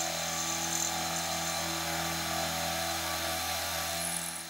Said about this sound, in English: Then I'm gonna mill an opening in the front that will create the frame.